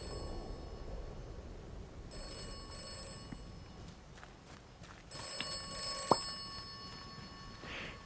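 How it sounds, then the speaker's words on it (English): A telephone rings inside the video game Atomfall, a faint bell-like tone over low ambient game sound, with a brief sharp accent near the end. "if a phone in the middle of here started ringing, I don't know if I would answer it, but I think I will in this video game"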